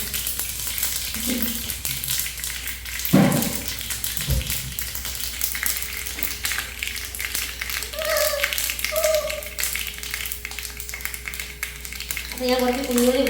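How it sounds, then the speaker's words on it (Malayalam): Mustard seeds sputter and pop in hot oil in a pan, a dense crackling hiss with scattered sharp taps and a couple of louder knocks. A person talks over it at intervals. "നമുക്ക് കടുക് പൊട്ടിക്കുന്നു"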